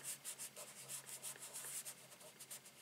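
A hand rubbing over a stamped paper greeting card, a soft, rhythmic dry scuffing in quick repeated strokes, faint and close with no talk.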